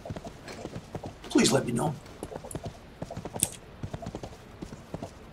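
Horse hooves clip-clop in a steady, fairly close rhythm in the online game Rift while someone talks over them, with one brief louder burst of sound midway.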